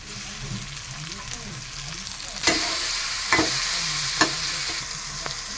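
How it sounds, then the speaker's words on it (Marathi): Chopped tomato is added to roasted onion in a frying pan and stirred, giving a steady soft sizzle with several sharp scraping clinks of the spoon against the pan, close by and fairly quiet. "एक मोठ्या आकाराचा टमाटर बारीक कट केलेला आहे तो टाकूया तो पण आपण छान भाजून घेऊया"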